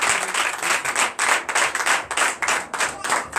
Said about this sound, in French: Donnez encore de lui l'acclamation.